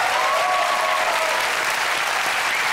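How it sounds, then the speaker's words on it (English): A studio audience at a British comedy panel quiz show bursts into steady, loud applause that fills the whole stretch without pause, with no talk over it. "give her a round of applause"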